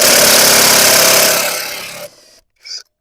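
A Grosser GID 230N cordless impact wrench runs on its second speed to loosen a bolt, giving a loud, close, rattling mechanical buzz for about two seconds that fades out, followed by one short final burst.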